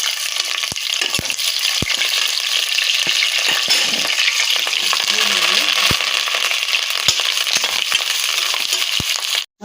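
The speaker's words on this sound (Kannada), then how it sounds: "ಸ್ವಲ್ಪ ಚೆನ್ನಾಗಿ ಇವೆಲ್ಲ ಫ್ರೈ ಆಗಬೇಕು ಮಸಾಲೆ ಐಟಮ್ಸು" Whole spices and green chillies frying hard in hot oil, a loud dense crackling sizzle with sharp spatula taps and scrapes scattered through, no speech.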